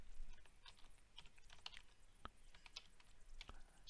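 Typing on a computer keyboard while entering a cell range into a Google Sheets conditional formatting rule: quiet, irregular light key clicks scattered steadily throughout, up close, with no talking.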